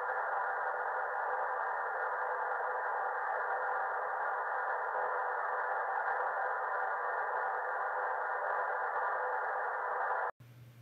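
A steady, unchanging hiss of band-limited white noise test signal, played at about 70 dB through a Fosi V3 amplifier, plays loudly for about ten seconds, then cuts off abruptly to near silence.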